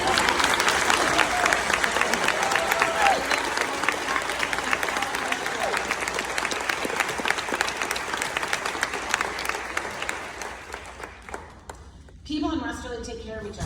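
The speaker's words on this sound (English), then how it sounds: "give some applause to the paraprofessionals and job coaches" An audience at a school teacher-of-the-year ceremony claps in sustained, dense applause that slowly thins out, ending with a brief burst of voices near the close.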